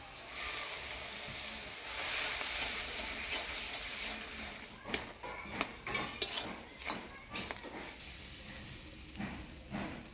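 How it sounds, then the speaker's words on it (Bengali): Mustard-green pea leaves curry with pithalu being stirred in a pan: a steady faint sizzle, then a run of sharp utensil clinks and scrapes against the metal in the second half, with no talking. "এবার পিঠালু দিয়ে নাড়াচাড়া করে নামিয়ে দিব।"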